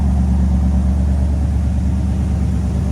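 A 1959 Ford Galaxie 500 with a 352 V8 idling steadily up close, a low, even rumble with a slight rhythmic throb.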